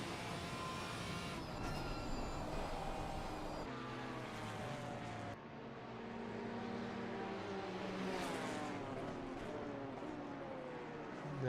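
GT4 race cars in a sim racing game at Suzuka, engines droning and whining in overlapping layers as several cars pass, pitch shifting through gear changes, steady and continuous with no voices.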